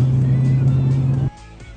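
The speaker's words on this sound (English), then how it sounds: "This is a BMW, this is an M3." A BMW M3 with an automatic gearbox, its engine holding a steady low drone up close before cutting off sharply into quieter road noise.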